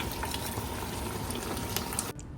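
Garlic cooking in a pan for wagyu salpicao, a busy bubbling sizzle with crackling pops that runs steadily and close before dropping off suddenly at the end.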